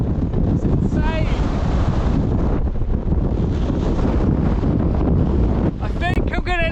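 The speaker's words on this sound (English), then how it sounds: "It's so windy up here." Strong wind buffets the microphone on an exposed hilltop during a winter gravel bike ride, a loud continuous roar for the whole stretch, with brief bits of voice near the start and end.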